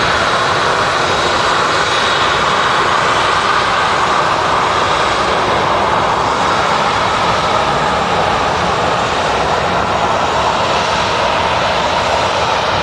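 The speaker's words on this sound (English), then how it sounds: "Didn't see the gear go up there on the TUI Dreamliner." A TUI Boeing Dreamliner jet airliner taking off at Manchester Airport: a loud, steady, unbroken engine roar with a broad rushing quality that holds at full strength throughout.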